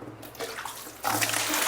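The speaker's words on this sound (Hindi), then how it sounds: "अपना कपड़ा भिगो देते हैं।" Tap water pours into a tub or bucket to soak clothes indoors, a steady close rushing splash that grows louder partway through, alone without talk.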